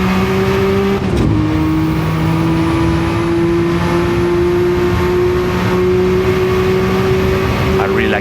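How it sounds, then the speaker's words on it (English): Porsche 956 race car with a 620 horsepower flat-six twin-turbo engine pulls hard up the back straight of the Nurburgring, a loud steady rising engine note over continuous turbo and wind roar, heard up close from the cockpit. "I really like the sound of this flat 6 twin turbo 620 horsepower car."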